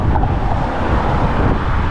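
Strong wind buffets the microphone in a continuous low roar, with no pauses and no voices, while cycling in wind and rain over a bridge across the Moselle River into Germany.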